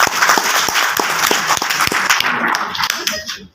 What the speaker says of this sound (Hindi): आपके लिए जोरदार ताली होना चाहिए।